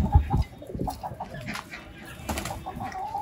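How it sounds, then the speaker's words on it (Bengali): Chickens, ducks and pigeons feed together on a rooftop, giving a loud close cluck up front and then scattered softer clucks and bird calls. "খাবার যখন দিছি মুরগিকে তখন গেছে হলো কবুতর হাঁস সবগুলো একসাথে খাইতেছে"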